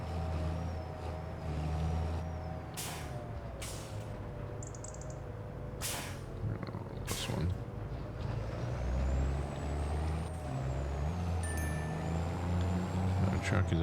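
Air brakes hiss in short bursts as a truck idles at a sale point in the farming game Farming Simulator 25, with a steady diesel rumble underneath and several sharp releases spread across the scene.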